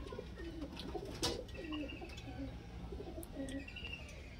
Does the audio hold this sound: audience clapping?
no